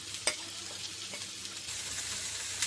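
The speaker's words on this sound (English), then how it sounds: "So I'm going to fry onions" Onions and cashews fry in ghee in a pan, a steady close sizzle with a sharp crackle early on and the hiss brightening slightly partway through.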